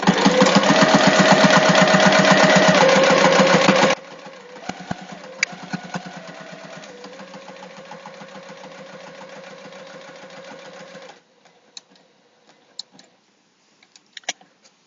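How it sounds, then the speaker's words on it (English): A sewing machine stitches a seam on a fabric clutch wallet, running in a loud steady mechanical whir for about four seconds before stopping. Quieter handling noises and brief clicks follow. "I'm going to turn and I'm going to sew back down the other line"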